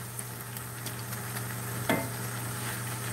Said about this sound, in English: we're just going to let that sizzle for a while